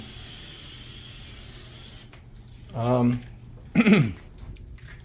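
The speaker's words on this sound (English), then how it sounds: "everything that the hands touch gets sprayed, including our cupboards, which are painted" Lysol disinfectant sprayed onto household surfaces such as painted cupboards, a long steady hiss lasting about two seconds, nearby, then a voice speaking briefly after it.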